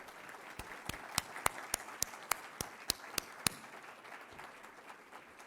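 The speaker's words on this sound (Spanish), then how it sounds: "Un aplauso para él." Sparse applause at the Premio Copé 2024 award ceremony: about a dozen distinct, separate claps at a steady pace, fairly faint over a low room hiss.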